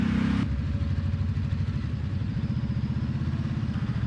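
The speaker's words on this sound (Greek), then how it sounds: "Wow, αυτό είναι ανεμιστήρας που ακούγεται." A Ducati Desert X motorcycle idles with a steady rhythmic engine pulse while its cooling fan whirs continuously, heard close after a brief louder burst at the start.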